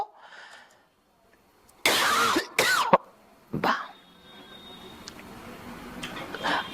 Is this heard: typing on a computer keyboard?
no